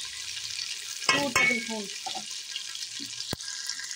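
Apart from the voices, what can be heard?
ginger and garlic frying in oil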